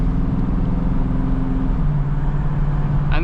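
A 2021 Dodge Scat Pack's V8 engine pulls loud and steady from close by as the car opens up around a bend, its low drone stepping down in pitch partway through like a gear change.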